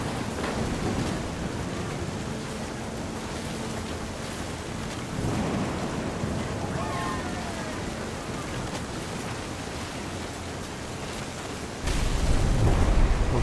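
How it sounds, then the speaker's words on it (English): Thunder rumbling in the video game What Remains of Edith Finch, a broad low roll over steady rain-like noise, swelling around five seconds and surging louder near the end. "The thunder sounded much too close and full of angry power"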